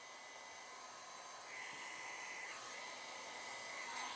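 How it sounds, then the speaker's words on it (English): A blow dryer blows steadily on an alcohol ink painting, a continuous airy whoosh that grows slightly louder partway through, faint and alone without talk. "I can just bring in the blow dryer around"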